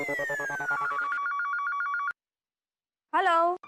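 A phone's ringing tone trills for about two seconds on an outgoing call to an office, then stops; after a short silence a voice speaks briefly.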